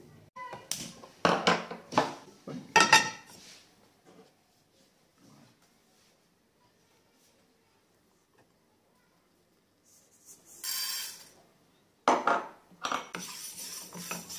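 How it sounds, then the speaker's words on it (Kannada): Fenugreek seeds lightly roasting in a pan, stirred with a spoon in bursts of scraping, clinking strokes, with a long quiet gap in the middle before the stirring resumes. "ಈ ಮೆಂತ್ಯ ಲೈಟಾಗಿ ಹುರಿದು ಎತ್ತಿಟ್ಟಬೇಕು."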